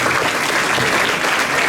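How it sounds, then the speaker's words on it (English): Steady applause from a crowd at an athletic banquet, a dense, continuous clapping that holds at the same level from start to finish with no voices above it. "I know that deserves a round of applause right there"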